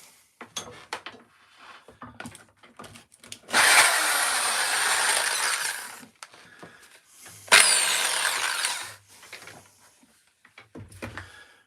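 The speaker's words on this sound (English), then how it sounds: "Let's get the drill underway." A power drill drives into wood pieces in two long, loud bursts of whirring, each lasting a couple of seconds, separated and surrounded by clicks, knocks and handling clatter of wood and tools nearby.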